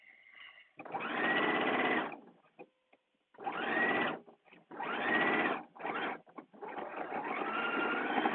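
A sewing machine stitches a cup on a day date dress in bursts, four or five runs of fast, close whirring separated by short pauses, ending in a longer steady run.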